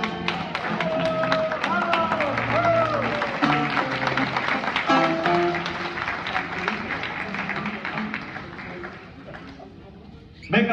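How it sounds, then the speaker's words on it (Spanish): Applause and crowd noise from an audience at a Christian men's congress concert in Watsonville, California, steady and dense through most of the stretch, with music and voices mixed in before it thins out near the end. "Vamos a darle un fuerte aplauso."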